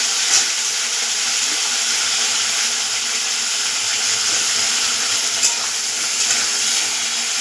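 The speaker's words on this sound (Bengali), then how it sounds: "গাঁঠি কচিটা ভাজা ভাজা হোক" Chunks of taro (gathi kochu) fry in a pan with a steady, even sizzle and hiss that runs without a break, close by and with no talking.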